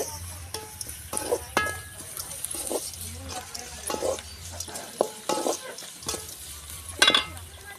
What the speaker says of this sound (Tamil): வெங்காயம் அதெல்லாம் உப்பு கொஞ்சம் போட்டு வதக்கி